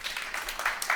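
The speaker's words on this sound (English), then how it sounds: "can I give a little round of applause for Kevlin?" Applause from a conference audience for a guest speaker at a tech talk, a brief continuous wash of clapping at moderate level with no speech over it.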